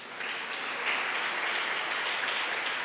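A church congregation applauding, a dense and steady wash of clapping that holds at an even level throughout with no voices.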